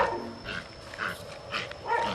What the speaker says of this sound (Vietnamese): Mà mấy bạn chó này cũng ngộ